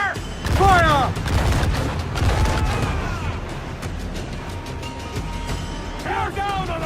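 Ship cannons fire in a naval battle in Assassin's Creed 4: Black Flag, with loud, booming blasts rolling through a thick battle din while crew voices shout over it.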